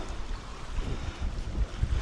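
Steady wind buffets the microphone at a Scottish campsite with a low, rumbling roar that swells and gusts throughout, with no voices.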